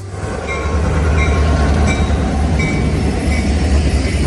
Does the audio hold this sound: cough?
no